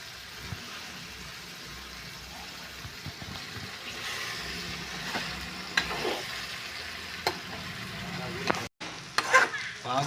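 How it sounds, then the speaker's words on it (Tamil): Bitter gourd sautéing in oil in a pan over a low flame, a soft steady sizzle with occasional scrapes and stirring clicks, fairly quiet and close. "பாவக்காய் சிம்மில் வச்சு நல்லா வதக்கணும்"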